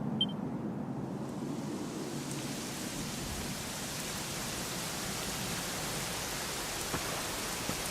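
Rain falls steadily in the Dragon Quest XI video game, a soft, continuous hiss of raindrops with faint low rumbling, quiet and unbroken throughout.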